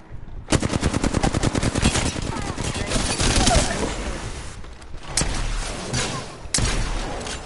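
Rapid automatic gunfire from an Apex Legends match rattles in dense bursts. Loud, continuous volleys are broken by short pauses, then sharp renewed shots and more streams of fire.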